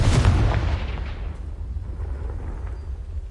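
A Confringo fire spell blast in the Hogwarts Legacy video game, a loud booming explosion at the start that decays into a long rumbling tail.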